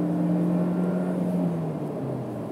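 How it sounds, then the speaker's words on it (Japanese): A Volvo S60 four-cylinder engine pulls hard from a standing start with a rising, buzzy drone heard from inside, steady and moderately loud, the pitch gliding as it accelerates past 6,200 rpm. "意外とエンジン音は、"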